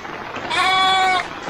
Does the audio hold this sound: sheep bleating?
yes